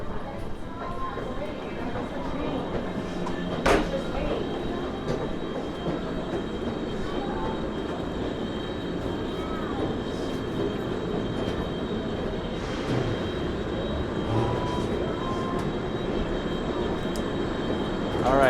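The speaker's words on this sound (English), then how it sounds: "here's a New Jersey Transit train and also Amtrak" Trains hum and rumble inside Penn Station beneath a busy station hall, a steady low drone with occasional clanks and sharp squeals, with people talking in the background.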